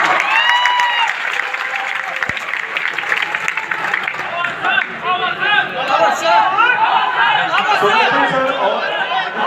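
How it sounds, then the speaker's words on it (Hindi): Loud crowd applause in a Patna hall meetup for civil services aspirants, honoring Madhukar sir, mixed with chatter and voices over a continuous wash of clapping. "जोरदार ताली मधुकर सर।"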